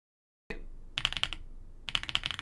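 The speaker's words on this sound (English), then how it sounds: "No more keyboard sounds, unless I'm talking." Computer keyboard keys click and clack in two quick bursts of typing, close and crisp, with a quiet pause between them and no talking.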